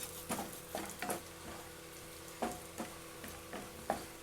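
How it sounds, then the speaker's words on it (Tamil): Raisins and cashew nuts fry in hot ghee in a pan for bread halwa, a steady soft sizzle broken by light scraping clicks from a stirring spoon at irregular intervals, close and fairly quiet. "இப்போ இது எல்லாத்தையும் நான் நல்லா நெய்யில் பொரிச்சு எடுத்துக்கிட்டேன்"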